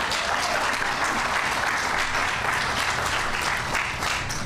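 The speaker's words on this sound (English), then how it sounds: "let's give them a round of applause" An audience gives a steady, dense round of clapping for a community development project's financial backers, sustained and fairly loud throughout with no voices over it.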